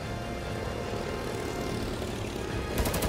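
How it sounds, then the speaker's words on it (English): Propeller-driven fixed-wing aircraft flying over in an anime battle episode, a steady droning engine roar throughout, with a brief sharper burst near the end. "Oh, planes."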